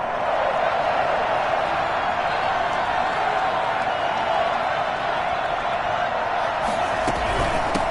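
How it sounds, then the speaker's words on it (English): Steady roar of a packed football stadium crowd at a 49ers vs Packers game building ahead of a big third down, a dense continuous wash of cheering with no break throughout. "the crowd getting into it as we come up on a big third down"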